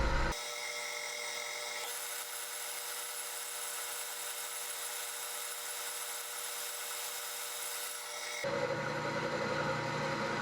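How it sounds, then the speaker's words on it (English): A high-speed steel tool cuts soft steel on a lathe, giving a steady, quiet whirring grind that holds evenly for several seconds before it shifts to a rougher, louder tone near the end. "I'm going to switch to a high-speed steel tool. It has a sharper edge and cuts better on this soft steel."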